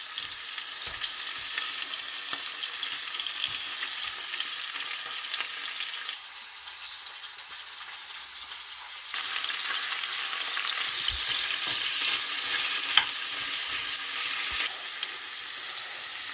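Cherry tomatoes and zucchini fry in extra virgin olive oil, giving a steady, close sizzle that drops quieter for a few seconds midway before swelling again, with occasional soft stirring knocks and no talk.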